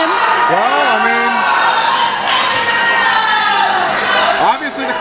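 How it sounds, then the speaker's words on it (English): A wrestling crowd jeers loudly and continuously at a wrestler who has just removed his shirt, with shouts and raised voices rising and falling across the hall. "All he had to do is take off his shirt and everyone boos him"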